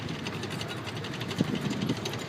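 Tank powered by two Cadillac V8 flathead engines idles with a steady low rumble and a busy mechanical clatter, a few louder thumps breaking through midway.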